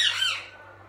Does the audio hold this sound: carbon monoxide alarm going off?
no